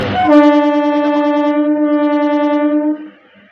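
A MEMU passenger train running from Purulia to Howrah through sal forest near Masagram, Bankura sounds one long, loud, steady horn blast lasting about three seconds, then it cuts off.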